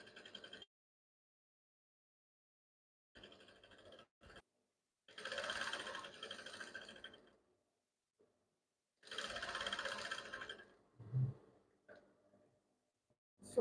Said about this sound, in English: I'm going to stitch up first.